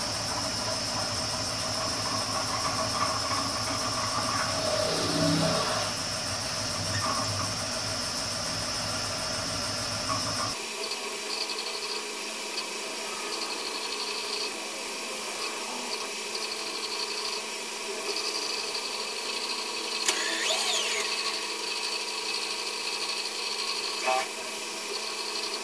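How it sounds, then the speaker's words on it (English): Power drill running a quarter-inch bit through a metal tool-holder workpiece, a steady whining motor drone held for a long stretch, with a brief rising squeal partway through as the bit cuts. "Now I got a quarter inch bit in there and go right through it."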